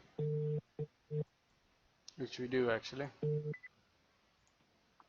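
A phone call is placed during a podcast, and short, evenly spaced telephone tone bursts sound clearly. Someone speaks over the middle before one more tone and a brief beep.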